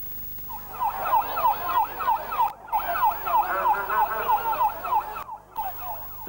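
Ambulance siren in Istanbul, a loud rapid yelping wail repeating steadily throughout with two brief dropouts, nearby amid a crowded scene.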